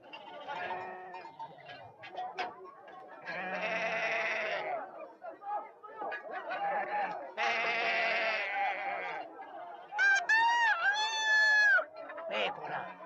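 Sheep bleat repeatedly, several drawn-out wavering cries close by, the last ones higher and more tonal, separated by short quieter gaps.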